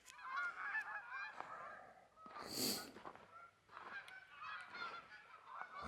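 Geese honk in the distance, a scattered chorus of calls with one louder, closer honk midway, against a quiet outdoor background.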